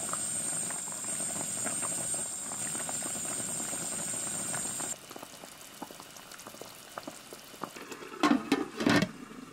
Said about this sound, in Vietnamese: Mở lửa lớn cho nước sôi.